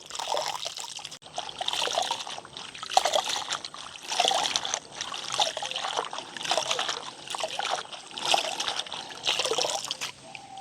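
Leafy greens from a village garden are rinsed by hand in a vessel of water, with rhythmic sloshing and splashing bursts repeating about every second, close up, with a voice heard faintly at times.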